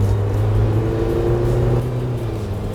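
A BAW 212 T01 SUV accelerating, heard from inside as a steady low engine drone and whir that eases slightly toward the end, with no talk over it.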